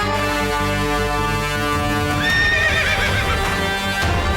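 A restless horse whinnies and neighs loudly over a steady drone of music, its call rising and wavering in the second half, with faint clopping hooves beneath.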